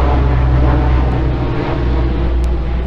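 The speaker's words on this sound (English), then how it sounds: "there's an airplane going on" A loud, steady low roar of an airplane flying overhead, continuous and close throughout with no pauses, heard alone without talk.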